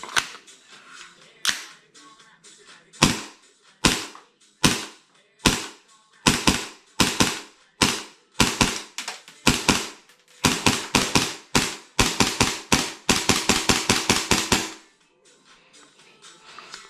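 Custom airsoft replica pistol firing with its bolt cycling, sharp close snapping shots starting as spaced single shots and quickening into fast rapid strings before stopping, with a few faint clicks afterward and no talk.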